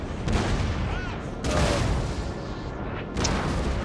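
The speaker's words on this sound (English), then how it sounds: "I think from here I'm just going to let my cannons do some work" Napoleonic-era cannon batteries in Napoleon Total War boom in three heavy, distinct blasts, each followed by a rolling rumble and a clatter of distant musketry, loud and close.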